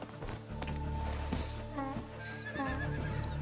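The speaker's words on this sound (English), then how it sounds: "Donkey noise." Animal braying cry from a donkey in the game A Plague Tale Requiem, a loud wavering call rising and falling over soft hoof clops and ambient game sound, close and alone without talk.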